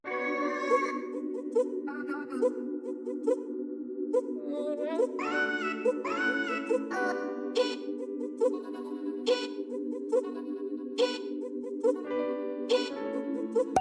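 Layered sampled textures from the Exhale vocal library play alongside a piano melody, sustained tonal pads with repeating plucked and chimed notes in a steady rhythm, clean and unbroken with no talking.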